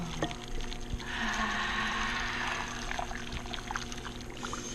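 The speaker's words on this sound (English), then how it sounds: "now we're going to pour our liquid that we've made over top" Homemade liquid is poured over a lamb roast surrounded by sweet potatoes, a steady close trickle and splash lasting a couple of seconds before tapering off.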